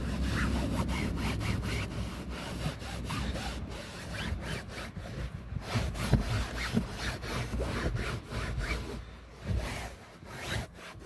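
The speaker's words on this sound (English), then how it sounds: "start just rubbing it into your interior" Rubbing a cleaning product into the interior of a Ford Fiesta Zetec S Black Edition, heard as a steady, close, rhythmic scrubbing and brushing with no talk.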